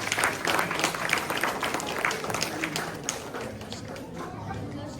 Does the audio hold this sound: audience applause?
yes